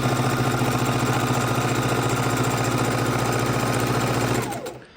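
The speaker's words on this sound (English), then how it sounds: "let's bring them over to the sewing machine. And we're taking our strips and just sewing them across at a 1/4-inch seams." A sewing machine runs steadily while stitching fabric strips together with quarter-inch seams for a strip quilt block, a loud continuous motor hum and rapid needle chatter that winds down and stops near the end.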